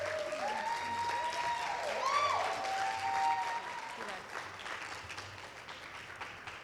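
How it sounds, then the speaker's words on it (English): A standing audience at a fashion show applauds a Mrs. California titleholder, a steady, fairly faint patter of clapping with voices speaking over it during the first half, then the applause continues alone. "Can everybody rise and give her a kind round of applause again?"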